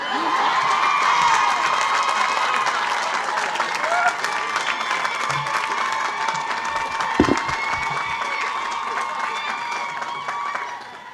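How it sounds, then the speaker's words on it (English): An outdoor college commencement audience at Wellesley in 1996 cheers and applauds for the arriving speaker, a loud sustained wash of clapping and shouts from a large crowd with scattered whoops. "The sooner you stop cheering, the sooner I can start speaking"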